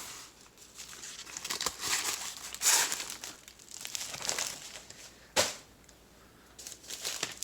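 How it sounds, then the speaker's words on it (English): A diamond painting canvas is rolled up and slipped back into its crinkly plastic packaging, giving close, irregular bursts of crackling and rustling with one sharp snap partway through. "Just going to roll this one back up because I'll probably be able to get this one back in the envelope."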